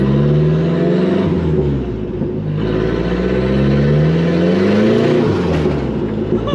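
A chassis-swapped 1959 Mercedes rat rod engine revs up and down repeatedly, rising and falling pitch sweeps close by, with a continuous whirring turbo note layered over the growl.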